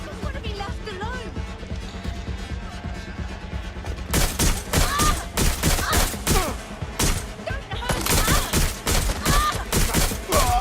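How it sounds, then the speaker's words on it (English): Gunfire in the video game Watch Dogs: Legion, where quieter ambient game sound gives way to loud, rapid volleys of shots that continue in dense bursts, with voices talking underneath. "Taking fire!"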